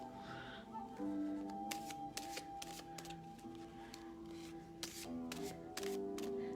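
A deck of cards being shuffled for a card reading, quick riffling bursts recurring under faint background music and low speech.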